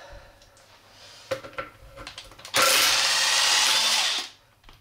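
An impact driver removes the rear sprocket nuts on a Triumph Scrambler 1200 close up. A few short clanks and taps come first, then a loud, steady burst of rapid rattling hammering lasts just under two seconds and stops abruptly.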